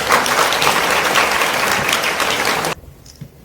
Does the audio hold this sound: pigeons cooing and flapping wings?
no